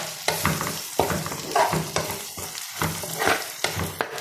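Kandanakaya (gizzard) pieces fry in a pan, a close, steady sizzle broken by repeated sharp spatula scrapes and stirring knocks roughly every half second, no talk.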